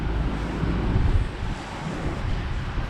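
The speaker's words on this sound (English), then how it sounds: "It's so windy." Steady, blustery wind buffets the microphone, a constant low roar with gusts swelling and easing, no voices present.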